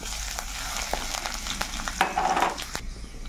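Dried red chillies and crushed garlic fry in a little oil, a steady close sizzle with crackling pops and a brief stirring scrape, no voices.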